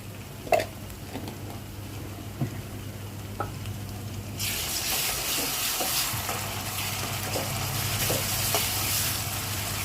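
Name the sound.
ginger garlic paste frying with onions for mutton keema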